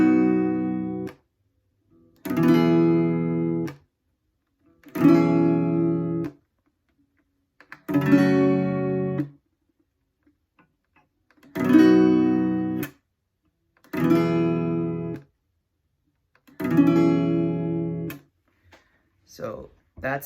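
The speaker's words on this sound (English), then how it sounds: "So that's that chord strumming pattern." A guitar plays a chord strumming pattern in seven short bursts of strummed chords. Each burst lasts about a second and is followed by a brief silence, played close with no talking over it.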